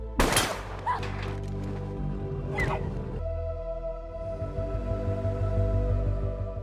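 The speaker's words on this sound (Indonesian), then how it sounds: "Michael dan Brian pun saling adu tembak sampai peluru mereka berdua sama-sama habis." Film shootout gunfire, with two sharp, distant-sounding shots cracking over a low, sustained musical score that continues on its own afterward.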